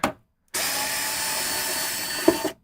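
A power screwdriver whirs steadily for about two seconds while removing screws from a vintage vMix GO+ unit, loud and close, with a brief clink of metal at the end.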